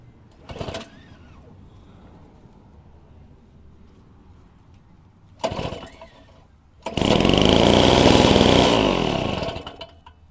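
Pull-starting a Yard Machines single-stage snowblower that has sat unused for about a year: two short rope-pull bursts, then the small engine catches and roars loudly for several seconds before fading.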